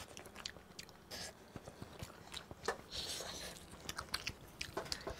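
Close, crisp bites and steady chewing on a soft, spongy vegan egg-substitute omelette, with irregular moist crunches and squishes over about five seconds and no talk.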